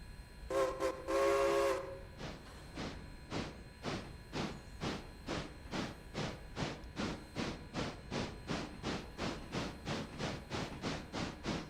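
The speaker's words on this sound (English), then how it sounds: "Our passenger train has reached Stila, which is excellent." A passenger train in the Railroader video game: a loud whistle blast near the start, then a steady rhythmic clatter of wheels over rail joints that continues evenly at close range with no talk.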